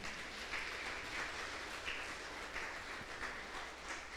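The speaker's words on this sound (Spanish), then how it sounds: "Dele un aplauso al Señor." A church congregation claps for the Lord during a Sunday service, a faint, continuous, rushing patter of many hands at a steady level throughout.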